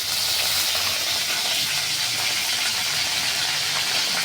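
Cumin seeds, a little fenugreek and curry leaves crackle in hot oil for a fish kulambu, giving a steady, dense sizzle that holds evenly from start to finish with no voices.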